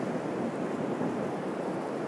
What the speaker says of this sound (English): This is a river connecting to the ocean.